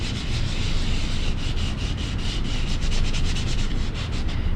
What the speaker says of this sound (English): you're going to rub that styrofoam in all the areas